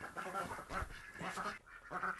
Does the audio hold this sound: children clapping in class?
no